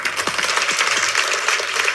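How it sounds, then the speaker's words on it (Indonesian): Steady applause from a church congregation, a dense wash of clapping that holds at an even level throughout. "Anda boleh tepuk tangan."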